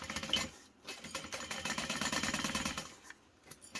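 Home sewing machine stitching one side of a fabric bag, a steady rapid mechanical whir with fine repetitive clatter running almost continuously, briefly pausing near the start and end.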